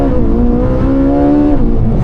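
A Ferrari 458 Speciale accelerating hard under launch control, its engine loud and close with a rising, strained note from a confined cabin.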